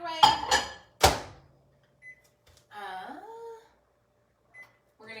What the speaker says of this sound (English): I'm gonna pop this in the microwave.